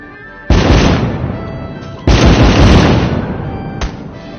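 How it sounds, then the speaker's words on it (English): Fireworks in the VR video game The American Dream burst in three loud, booming blasts, each with a crackling, fading tail; the first two come about a second and a half apart and the third is shorter, with no talking. "So glad we invented fireworks."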